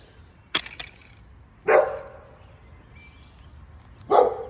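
A dog barks sharply a few times nearby, with short irregular gaps between barks and a quiet background.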